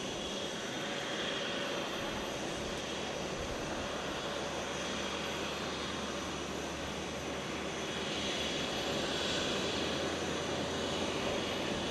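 A Korean Air jet in its old livery roars at Fukuoka International Airport, a steady, broad jet-engine rush sustained throughout at moderate distance, with no voices.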